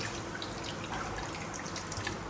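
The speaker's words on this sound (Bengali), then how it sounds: "জল দিয়ে দিই" Water is added to a simmering curry after the oil has separated, giving a steady pouring, sloshing wash of liquid with faint drips, close and alone with no talk.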